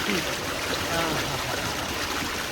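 Cold stream water used as a bathing pool, flowing and trickling in a steady close wash with light gurgles, no talking over it.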